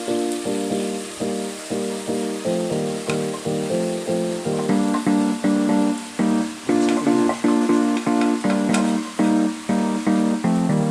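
Rice tipped into a hot pan for fried rice sizzles and crackles steadily, loud and close, with rhythmic scraping and stirring pulses running through the frying.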